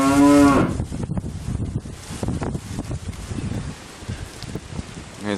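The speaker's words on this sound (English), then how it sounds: "And as usual, cows are on the road over there." A cow on a Norfolk Island roadside lets out one loud, close moo at the start, followed by outdoor wind noise and rustling.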